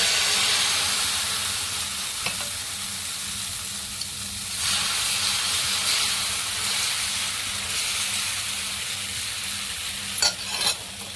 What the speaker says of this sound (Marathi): आता तवा गरम झालाय छान आपण डोसा घालून